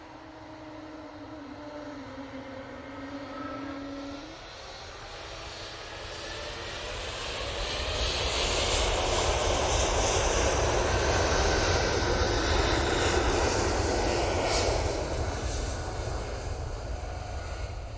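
A large jet airliner with Pratt & Whitney engines at Manchester Airport, its roar building from a steadier hum into a loud broad rushing thrust that holds through the later part, with a faint whine early on.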